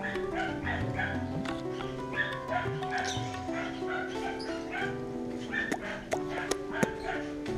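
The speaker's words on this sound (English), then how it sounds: "Ah, you can hear the dogs." Dogs bark and yip repeatedly in uneven bursts, mixed with whimpering, at moderate distance over a steady background hum.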